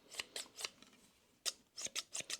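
A pair of freshly sharpened scissors is opened and closed with slight resistance, giving a run of crisp, close metallic snips in an uneven rhythm with a short pause partway through.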